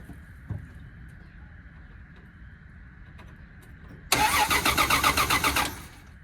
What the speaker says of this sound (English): Let's see if it has some spark if it'll start.